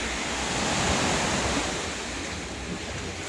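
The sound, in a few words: sea waves washing under a seaside veranda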